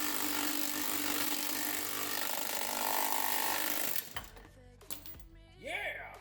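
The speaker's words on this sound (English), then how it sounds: "we're going to drill through the very center of this using the hole saw" A hole saw drills through a thin plastic lid clamped in a vise, a loud continuous grinding whir that stops abruptly, followed by a few clattering knocks and a short whine.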